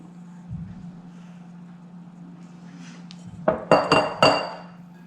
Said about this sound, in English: use our rubber spatula and mix it in.